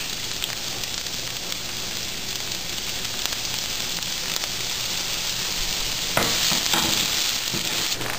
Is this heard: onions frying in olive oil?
yes